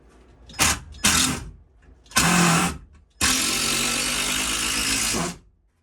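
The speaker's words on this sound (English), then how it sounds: "Impact drill saves lives." An impact drill driving screws into a composting toilet bench whirs in several short bursts, then runs in one long sustained buzz for about two seconds before stopping, close and loud.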